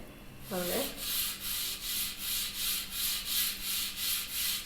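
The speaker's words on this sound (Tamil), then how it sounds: "பாருங்கள் நான் லைட்டாக வச்சுட்டு தான் பாருங்கள் ஸ்க்ரப் பண்ணுறேன்." A scrubber rubs a copper vessel coated with cleaning liquid in steady, regular back-and-forth strokes, a close, even rasping rhythm that starts after a brief clatter and continues throughout with no speech.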